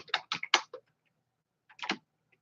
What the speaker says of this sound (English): let me type in and say, hello.